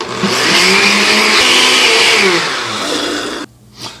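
A loud kitchen blender whirs steadily, blending Mountain Dew with chili powder, paprika, garlic and vinegar into hot sauce, then cuts off near the end, leaving a brief softer rattle.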